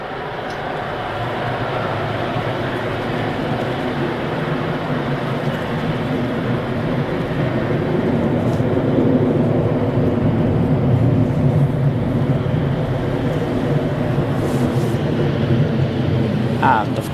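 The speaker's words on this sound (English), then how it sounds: "we have the Virgin now, taxiing." A Virgin airliner taxiing at Manchester Airport gives a loud, steady engine roar and rumble that holds throughout, with people talking nearby.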